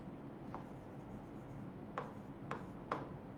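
Marker or chalk strokes on a classroom board during an English lesson, three short scratchy strokes close together near the end after a fainter one, soft against room noise.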